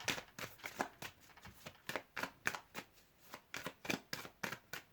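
A deck of tarot cards is shuffled in quick, crisp riffling bursts that repeat in an uneven rhythm, close and fairly quiet, with no talking.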